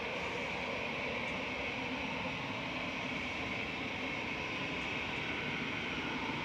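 Flight 202 from Dublin comes in to land at Manchester Airport, its engines a steady, broadband roar heard from a distance, unchanging across the stretch and without voices.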